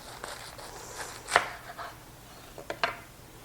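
A knife cuts around a head of cabbage in a few sparse, uneven strokes, with two sharper cuts standing out against a quiet kitchen background and no talking.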